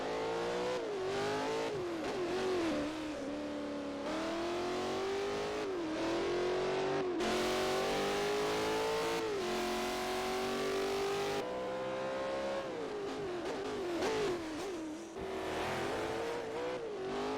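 Car engines in Forza Motorsport 4 rev hard and continuously, rising and falling through gear changes with sustained loud, whining engine tones and no talking.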